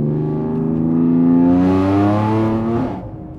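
Supercharged 463 hp Audi A5 Sportback with a straight-piped exhaust roars at full throttle, a loud, close, steadily rising engine howl lasting about three seconds before dropping off, with no talking.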